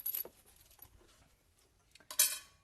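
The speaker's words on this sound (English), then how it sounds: "There's my car keys." Car keys jangle in two short metallic bursts, a quick jingle at the start and a brighter, louder rattle near the end, with quiet in between.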